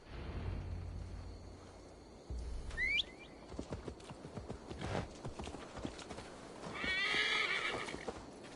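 A horse from the video game Assassin's Creed Valhalla trots along with clip-clopping hooves and gives a sharp whinny midway, then a second neigh near the end. The sounds come over a soft ambient background.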